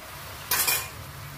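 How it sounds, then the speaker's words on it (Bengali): A Bengali shukto vegetable curry being stirred in a cooking pot, heard as one short scraping, clinking swirl of a spoon against the pot, fairly close and alone over a quiet background. "এবার এটা ভালো করে নেড়ে নিয়ে"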